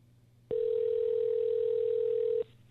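An outgoing telephone call ringing: one steady electronic ringback tone lasting about two seconds, clear and alone, with quiet line hiss before and after.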